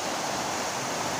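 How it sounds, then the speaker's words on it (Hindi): A waterfall in Buner pours into a pool below, a steady, dense broadband rush of falling water that holds constant and close throughout with no voices. "खूबसूरत अंदाज से पानी गिरता है नीचे"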